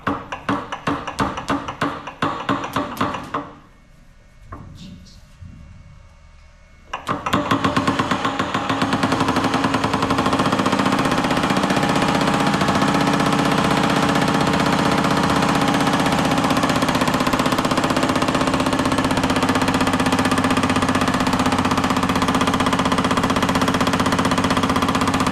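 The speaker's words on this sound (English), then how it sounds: "So I'm just going to hammer away at this." A sheet metal power hammer pounds a roof panel in rapid, continuous mechanical blows, loud and close, with a short quieter pause early on before the steady hammering resumes and runs on.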